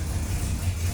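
A 1969 Dodge Dart 340 with a 4-speed, freshly restored, gives a deep, steady low engine rumble at close range, fairly loud and continuous through the short moment with no talking.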